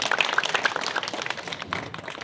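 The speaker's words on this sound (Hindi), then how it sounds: "एक बार बन्ना और बन्ना के परिवार के लिए जोरदार तालियां बजाओ आप सब" Scattered, uneven clapping from wedding guests welcoming the groom's party, loose and moderately close, swelling briefly before thinning out.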